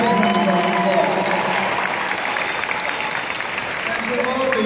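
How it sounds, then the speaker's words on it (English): Loud, dense round of applause from a convention crowd, continuous and even throughout with crowd noise and some voices mixed in. "Please give them a tremendous round of applause."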